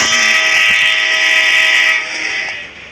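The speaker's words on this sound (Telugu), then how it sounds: "ట్రైన్ వస్తుంది" Loud sustained train horn blaring close by in the video game GTA 5, a bright steady tone that fades somewhat near the end.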